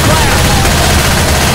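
Dense, continuous gunfire from Left 4 Dead 2 while players shoot at a clown at the carnival, loud and unbroken throughout with no gaps.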